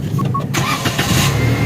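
A 2022 Suzuki Alto in neutral with its check-engine light on and a MAP sensor fault is started. Two short beeps come first, then a loud, close, rough burst of the starter cranking and the engine catching.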